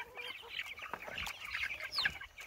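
Meat chickens about three weeks old, part of a flock of 136 birds, cluck and peep continuously at close range, with busy overlapping calls and no talking.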